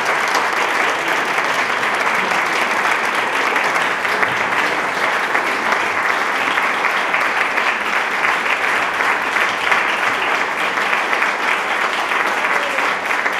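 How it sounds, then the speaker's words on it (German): Sustained, dense applause from a concert audience in Schloss Stauf after a string quartet performance, steady and loud throughout with no voices standing out. "die Besucher zeigten ihren Dank mit viel Applaus"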